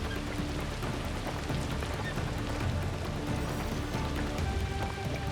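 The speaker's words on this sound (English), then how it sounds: "Have to go dramatically out into the rain." Steady, dense rain pours down in the video game Assassin's Creed Shadows, a constant hiss of drops hitting surfaces that stays even and fairly close throughout.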